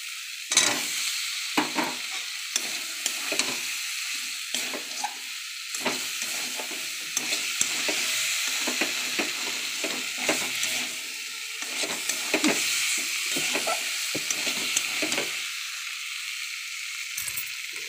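Spices, cauliflower and potato sizzle steadily in a hot pan for a Bengali curry, with repeated scraping and stirring strokes of a spoon cutting through the constant frying hiss, close up and with no voices.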